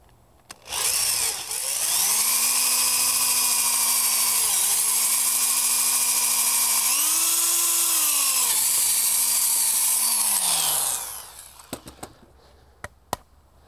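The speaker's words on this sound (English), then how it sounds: "I need to drill the hole all the way through in order to accommodate the shank of the bolt" A loud, continuous whine of drilling a hole through wood for a garden stool, running about ten seconds with slight pitch shifts, then stopping, followed by a few sharp clicks.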